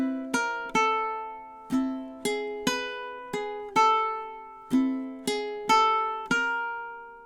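Ukulele picks out a bright, plucked melody with sustained ringing chords, roughly ten distinct note attacks in a bouncy, playful rhythm, close and clear with no talking.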